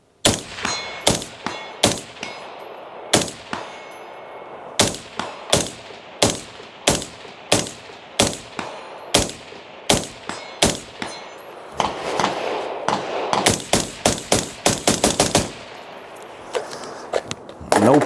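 A SOLGW MK1 combat assault rifle fires at 100 yards outdoors, sharp loud shots in an uneven rhythm, some spaced singly and others in quick strings, with faint ringing steel hits between.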